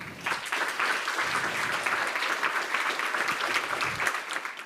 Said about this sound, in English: give a warm round of applause for Professor Randall Collins